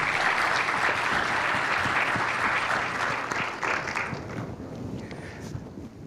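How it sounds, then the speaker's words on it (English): An audience applauds steadily for the final plenary panel of a water resilience event in Hawai‘i, a broad, sustained wash of clapping that stays loud throughout with only a slight easing near the end. "How about a round of applause for our final session this afternoon?"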